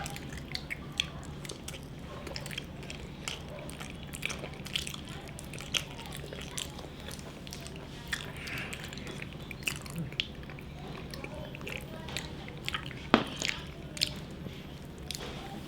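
Wet, squishy chewing and biting of banana in a fruit mukbang, close to the mic, with soft mouth sounds and occasional small clicks running steadily throughout.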